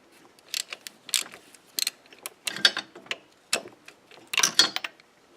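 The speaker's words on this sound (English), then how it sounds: "So I got my spark plug socket. I'm gonna go through and break all these loose." A ratchet with a spark plug socket breaks the spark plugs loose on a 1988 Toyota MR2 with a 4A-GE engine. Short bursts of sharp ratcheting clicks repeat, close and distinct, with brief pauses between strokes.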